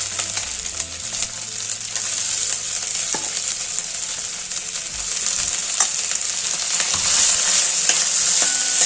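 Cracked wheat sautés in a pan, a loud continuous sizzle broken by scraping stirring strokes and occasional spatula knocks, with no one speaking.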